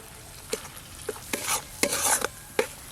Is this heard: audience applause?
no